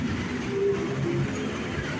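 A Bangkok Airport Rail Link train runs along steadily with a continuous rumble, low tonal whine and faint clatter, heard close from on board with no talking.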